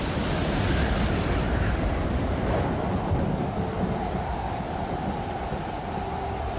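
A sea storm in the survival game Stranded Deep brings a loud, steady roar of rain and wind with a deep rumble of thunder rolling through near the middle, heard alone.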